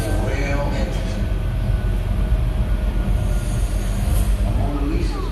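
A studio tour tram at Universal Studios Hollywood rolls along steadily with a constant rumbling, clattering noise close by, with faint voices underneath.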